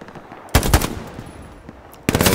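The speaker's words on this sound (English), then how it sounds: "Machine gunner in this building." Machine gun fire in the video game Hell Let Loose comes as loud, close bursts of rapid shots, one long burst then a pause and another burst.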